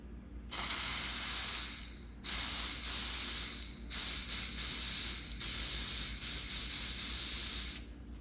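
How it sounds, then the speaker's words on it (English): Compressed air hisses hard through a Honda CRF front brake cable, pushing out lubricant and debris, in four or five long steady blasts separated by brief pauses, close and loud with no talking. "definitely shooting air down through that cable, which is helping push out that debris and crap that's in there"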